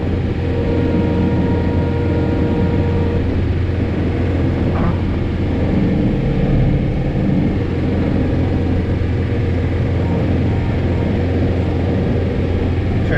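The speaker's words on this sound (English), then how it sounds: "when you hear that engine lug" A John Deere 4066R compact tractor engine drones steadily and loudly while clearing snow in a blizzard, its low rumble continuous and close throughout with no pause.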